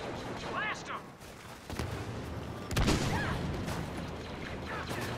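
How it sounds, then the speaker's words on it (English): Mini nuke launcher fire in a video game, heavy booming blasts and explosion-like bursts, loudest near the middle, with players talking over the game audio throughout. "The mini nuke launcher."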